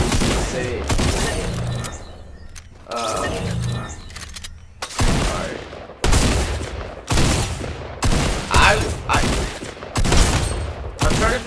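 Drum shotgun in Fortnite fired at a shooting range against builds, loud booming blasts in a rapid string of evenly spaced shots, with players talking over the opening seconds.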